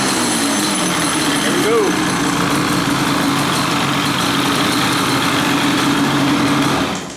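A Yamaha Banshee engine runs loud and close at wide open throttle after a compression test, a raspy, steady high-revving drone with one brief rising rev, and a short spoken line at the start.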